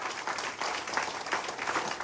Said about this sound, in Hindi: मैं चाहता हूं एक बार जोरदार ताली मिस्टर नसीर खान